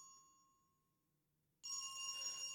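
A telephone rings in the horror game Dread Weight, a harmonic bell-like ring that starts abruptly after near silence and sustains loudly to the end, with no talking.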